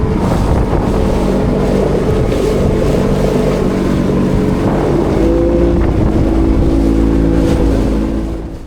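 A small aluminium tinny motors through choppy waves while out fishing, its outboard droning steadily and close up under heavy wind buffeting on the microphone, with no talking.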